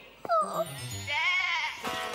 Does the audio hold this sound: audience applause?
no